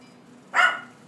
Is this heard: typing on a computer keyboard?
no